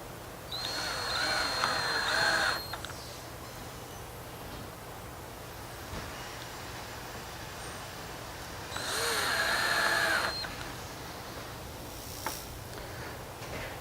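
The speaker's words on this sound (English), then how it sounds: "Using the last 2 screws, placing them in the last 2 holes on either side of the bolt pin" A power drill driving the last screws into a door astragal beside the bolt pin, two distinct whirring runs of a couple of seconds each, fairly close over a steady background hum.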